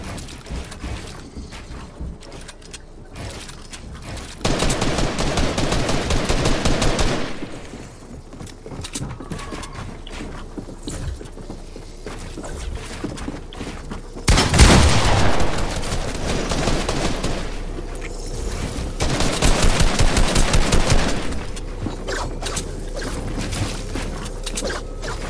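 Fortnite gunshots come in several dense bursts of firing over a steady game background, with a sharp loud volley in the middle and quieter stretches between.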